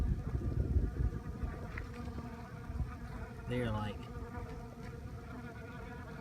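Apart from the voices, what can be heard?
honey bees buzzing while salvaging a dead-out hive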